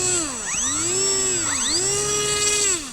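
Twin electric motors on an Avios BushMule RC plane run at full differential thrust on snow, giving a loud, close, whining buzz whose pitch sweeps up and down repeatedly in waves.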